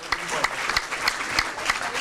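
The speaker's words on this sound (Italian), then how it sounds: "Voglio sentirlo più forte l'applauso per Omar, perché è arrivato scarico." Audience applause rings out in a studio setting, a dense patter of clapping with a few sharper claps standing out, steady for about two seconds with a faint voice underneath.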